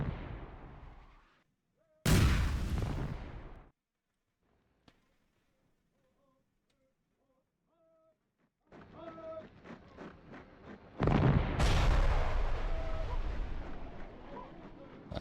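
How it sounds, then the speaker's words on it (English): Mortar rounds fired on enemy camps in the strategy game Power & Revolution, set in Syria: heavy booming blasts, one near the start, then a stretch of near silence, then a rumbling barrage of repeated thuds. "gonna start some mortar fire on these camps"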